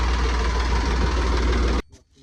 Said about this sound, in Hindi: ट्रैक्टर भी आ गया है।